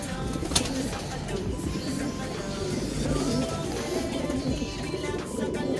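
Racing pigeons in a loft coo steadily in soft overlapping murmurs, a close, continuous bed of low bird calls with faint rustling and no talk.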